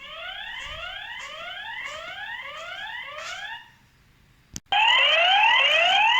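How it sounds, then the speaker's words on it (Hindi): Galayou Y4 PTZ outdoor security camera sounding its siren nearby, a loud repeating rising electronic whoop that stops for about a second after a click, then resumes even louder. "इसका सायरन फीचर मैं आपको दिखाता हूँ।"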